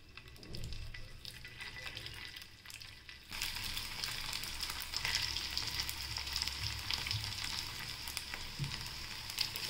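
Sabudana vada balls fry in a shallow layer of oil in an appe pan, giving a steady crackling sizzle. It starts quieter and becomes louder and denser about a third of the way through, with occasional soft clinks and no talking.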